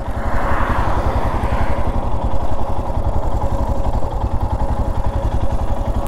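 A 2022 Royal Enfield Himalayan adventure-tourer motorcycle engine runs steadily close by, its single-cylinder thump pulsing in an even, loud rhythm throughout with no talk.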